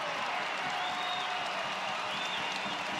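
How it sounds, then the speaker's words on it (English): A packed college basketball student section, many wearing latex gloves, claps and roars at a Nevada vs Utah State game, a dense continuous wash of crowd noise with faint announcer-like voices blended underneath. "They've got latex gloves on to make their claps louder. This is a wild, wild crowd."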